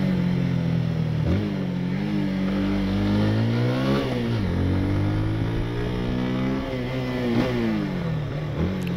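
160cc motorcycle ridden hard, its engine revving up and down through repeated rising and falling pitch sweeps as gears change, close and loud for the whole stretch.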